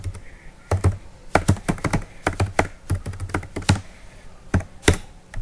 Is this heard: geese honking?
no